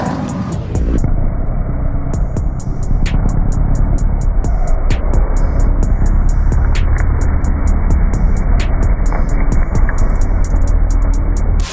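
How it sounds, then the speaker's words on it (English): A carbureted 351 small-block Ford V8 in a Ranger truck runs loud and steady throughout, with a dense, continuous low rumble and brief sharp accents scattered over the top. "This is a carbureted 351. LS's sound really good, but you know, there's nothing like a small block Chevy or a small block Ford."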